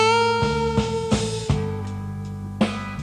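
A single acoustic guitar note rings and bends, with a few scattered string plucks and a slow, drooping release of pitch as the bend is let down too late; close and clear, no voices.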